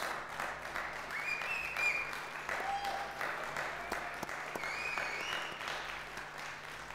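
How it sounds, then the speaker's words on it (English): A crowd applauds the four jazz semi-finalists at a national voice competition, sustained, even clapping from a sizeable audience lasting the whole stretch without any talk. "A round of applause."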